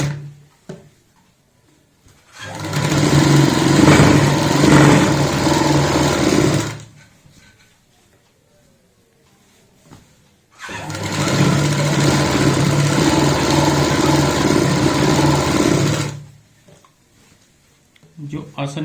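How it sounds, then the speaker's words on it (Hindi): Sewing machine stitching a palazzo pant seam in two long, loud runs of roughly four and six seconds, each a steady rapid whir, with near silence between them. "हम जैसे आधा इंच का मार्जिन लेते हैं ऐसे ही सेम नॉर्मल सिलाई लगाएंगे"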